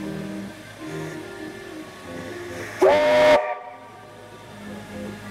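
A Garratt steam locomotive whistle blows once, loud and shrill for about half a second, then cuts off abruptly, leaving quiet rumbling background.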